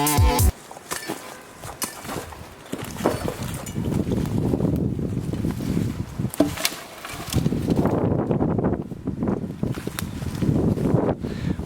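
Strong wind over a dry, brushy field buffets the microphone in a steady, rumbling roar. It swells and eases over several seconds, with faint rustling and a few knocks mixed in.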